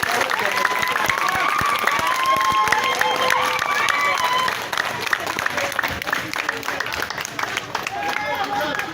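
A crowd applauds a minister at an outdoor gathering: steady clapping and cheering mixed with crowd babble, with voices talking over it throughout.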